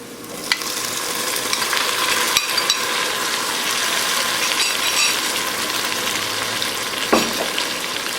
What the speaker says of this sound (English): Now I'll drop in the tomatoes.